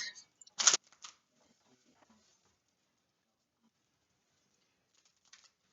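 Tarot cards being shuffled make a brief, faint riffling patter near the start, followed by near silence and a soft rustle at the end.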